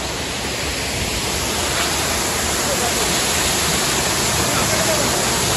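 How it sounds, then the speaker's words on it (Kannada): Bangara Balike waterfall, running with reduced flow after little rain, gives a loud, steady, close rush of falling water that holds unbroken throughout. "ನೋಡಿ ಇದೆ ಫಾಲ್ಸ್."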